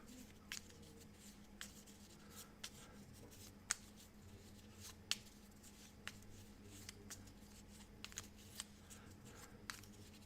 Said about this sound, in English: we shuffle these up and we're ready for round number 3 coming up